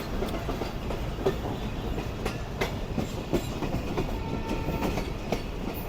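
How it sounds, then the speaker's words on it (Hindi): The Sukkur Express rolls across the Ayub Bridge with a loud, steady rumble and a repeated clickety-clack of wheels over rail joints, heard close and continuous. "तो ये ट्रेन हमारी एंटर हो रही है"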